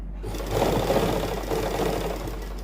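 A sewing machine runs continuously while stitching the side seam of a suit, a close, steady mechanical whirr with fast rhythmic chatter and a low hum underneath, with no speech.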